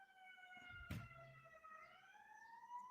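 A faint, distant emergency siren, ambulance or police, wails and slowly rises over quiet background, with a single soft thump near the start.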